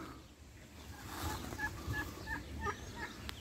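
A royal turkey at a zoo gobbles in a quick burbling run of short notes, moderately near, over faint outdoor background noise.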